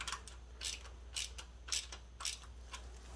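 Ratchet tightening bolts on the upper cam chain tensioner of a Honda CB900C DOHC engine, giving about five quick, close clicking bursts in an even rhythm over a low hum.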